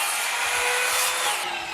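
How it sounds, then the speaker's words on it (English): A power tool cuts through a piece of wood for a DIY furniture project, giving a continuous high, buzzing whine with faint low rhythmic pulses beneath it. The cutting is close and loud, and it eases off near the end. "That's the first wood cut I've ever cut."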